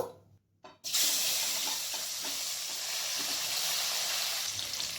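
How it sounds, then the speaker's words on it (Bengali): Boiled yam pieces drop into a pan with salt, turmeric and chili powder, bringing an abrupt, loud, continuous hiss of frying that stays close and steady throughout. "এরপর সেদ্ধ করে রাখা ওলগুলো দেব।"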